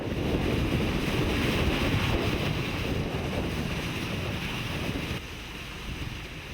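Sea waves surging in and out of weathered rock crevices on the northern east coast at Goseong, Gangwon, a continuous rushing wash mixed with wind buffeting the microphone, dense and close with no voices.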